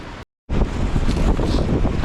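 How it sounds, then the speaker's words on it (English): Heavy wind buffeting on a cold commute aboard a Honda NC750X DCT motorcycle, a loud continuous roar with a brief dropout near the start, then steady blustering rush with no voices. "it is super cold and windy"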